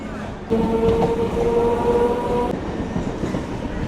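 A local train bound for Namkhana during the Gangasagar fair period, rumbling steadily with a sustained tonal whine and rail noise, loud and close for the whole stretch.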